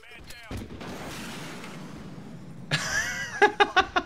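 Gunfire and artillery in the video game Arma 3: a burst of sharp shots and booms, then a rapid string of loud cracking reports near the end, with someone speaking over part of it.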